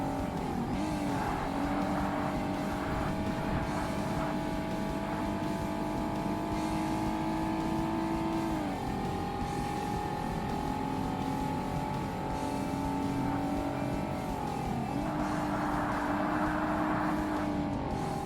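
A race car engine in the 2005 Xbox game Forza Motorsport, an Amateur Z-cars race, holds a steady loud drone with rising pitch sweeps as it shifts gears, with faint tire noise and no talk.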